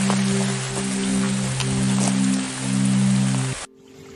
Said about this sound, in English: This footage shows when it's raining how the yard waste runs down the road into the river.